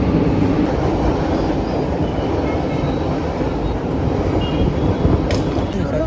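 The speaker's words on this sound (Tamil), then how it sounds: "நம்ம போக வேண்டிய வண்டி வந்துருச்சு." A commuter train pulls into a busy Chennai suburban station, a loud steady rumble and wheel roar filling the whole stretch, with faint squeal and clatter on top.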